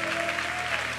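A congregation at a church worship service claps together in a brief, dense burst of applause, with a faint sustained tone beneath.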